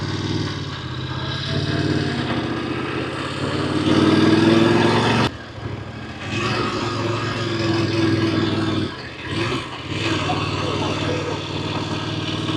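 A Voge DS900X motorcycle engine drones steadily while riding along an undulating road, with wind rush and a brief dip in revs, and a voice talking over it.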